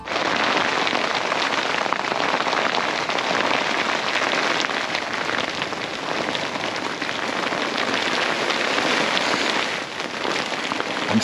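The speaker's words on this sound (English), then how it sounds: "trying to enjoy the rain, and I am" Steady, heavy rain pours down without a break, a dense hiss of drops drumming on surfaces all around.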